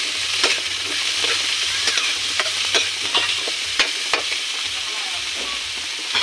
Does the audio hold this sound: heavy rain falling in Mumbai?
no